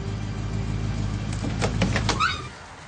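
A car engine running, with a steady low idling rumble under a hissing background, then a short burst of mechanical clatter and whine before the engine noise drops off.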